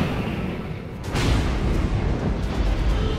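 Airplane crash effect in a Korean TV reenactment, an abrupt heavy rumbling boom that surges in and sustains as a dense roar, loud and enveloping.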